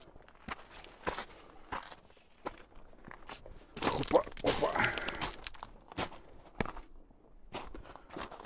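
Crunching footsteps scrape and slide irregularly on loose ground on a slippery descent at Meganom, Crimea, with heavier shuffling in the middle and faint breathing between steps.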